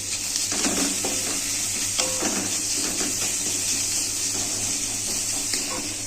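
Onions sizzle and fry in a pan with a pinch of salt, a steady hiss with occasional stirring scrapes and clinks close by.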